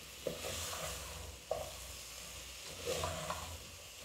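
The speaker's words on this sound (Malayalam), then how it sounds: "വെളുത്തുള്ളി, ഇഞ്ചിയും തക്കാളിയും എല്ലാം കൂടെ ഇതിനകത്ത് കിടന്നൊന്ന് വഴന്നു വരട്ടെ." Garlic, ginger and tomato sauté in a pan for mutton curry, a soft steady sizzle broken by a few sharp spoon scrapes and taps against the pan, close and fairly quiet, no voices.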